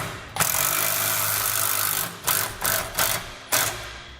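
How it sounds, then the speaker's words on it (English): A ratchet wrench with a 15mm socket tightening flange nuts on a fifth-wheel trailer hitch being installed on a 2017 Ram 2500: a long continuous ratcheting buzz, then four short clicking bursts, close and loud, no speech. "Now we use a 15mm socket,"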